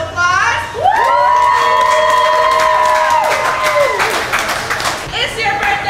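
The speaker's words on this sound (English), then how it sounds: "Can I get a round of applause? Woo!" A crowd at a birthday gathering erupts in loud cheering, whooping and clapping, with a long high-pitched shout and children's voices riding over the applause before it trails off.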